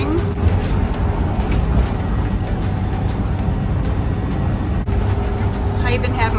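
Steady road and engine rumble from inside a vehicle driving in sport mode on new LiquidSpring suspension, a continuous close drone with occasional light clicks and rattles.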